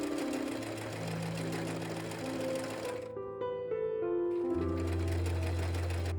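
A sewing machine runs steadily, stitching a rolled hem with top stitching along a gingham ruffle strip, with a brief pause before the motor whirs up again. No talk is heard.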